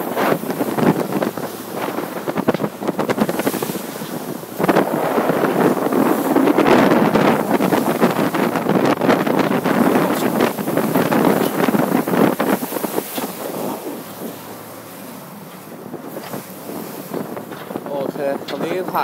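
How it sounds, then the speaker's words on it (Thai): Strong wind roars steadily across the microphone on a boat cruising the Bosphorus strait, gusting louder and softer, with the boat's engine and water faintly beneath. "คือลมโคตรแรงเลยฮะ"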